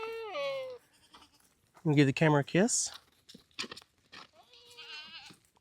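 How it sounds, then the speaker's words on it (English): Goats bleating on a farm, several wavering calls near and loud, one at the start and another near the end, with a person talking to them in between. "Well, here's the goats."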